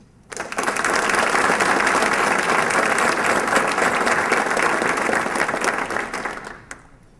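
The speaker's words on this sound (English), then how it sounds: "the Armstrong School District and Dr. Kerr deserve a great round of applause" An audience at a school district event breaks into sustained, loud applause that swells quickly, holds steady for several seconds, then fades out.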